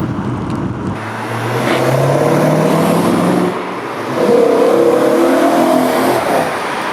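A BMW E92 M3 V8 engine revs in two loud, close bursts, the first rising after a short lull and the second climbing higher with a bright, sustained mechanical howl before dropping back.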